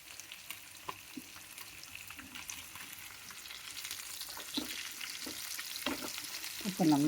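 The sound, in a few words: marinated food shallow frying slowly in oil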